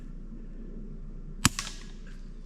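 A suppressed Chiappa Little Badger .22lr rifle fires one CCI subsonic round, a single sharp, muffled crack followed by a faint quick echo against a quiet background.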